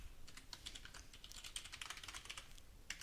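Keys on a computer keyboard clatter in a quick, uneven run of light taps as a root account password is entered during an ESXi 6.7 install, faint and close with no voices.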